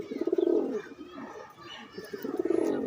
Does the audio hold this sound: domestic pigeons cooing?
yes